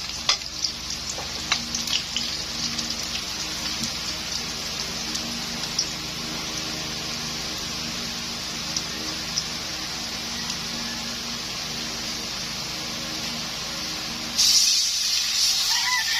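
Coconut milk from the second squeeze sizzles as it goes into a pan of stingray for a Bicol dish, a steady frying hiss with light stirring clatter throughout and a brief louder spray of sizzle near the end.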